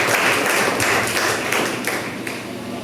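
A church congregation applauds to praise Jesus, a dense, fairly loud spread of clapping with a few sharper claps standing out, and no talking.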